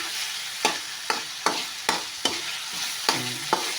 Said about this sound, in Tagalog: pag nakita nyo na naluto na yung karne, haluin nyo lang